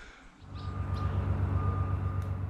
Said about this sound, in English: I don't know what that beeping sound is. I think there may be some farm vehicles down there.